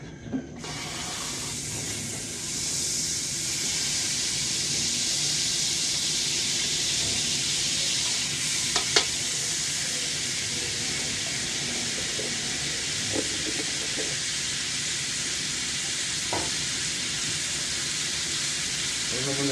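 Garlic sautéing in melted margarine in a pan, a steady loud sizzle that starts abruptly and holds for the whole stretch, with occasional faint clinks of a utensil.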